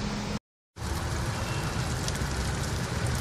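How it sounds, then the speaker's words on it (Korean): Light rain falls on a rooftop melon garden as a dense, steady hiss of drops, cut off by a short silent gap near the start and then resuming unbroken. "비가 촉촉하게 내립니다."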